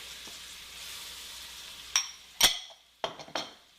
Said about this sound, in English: While our butter is melting, we're going to put the holy trinity of vegetables in here. Our onions.